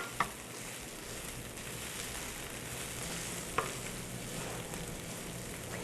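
Minced Spanish onion and bacon frying in a pan, a steady soft sizzle with two brief clinks of a utensil, close and fairly quiet.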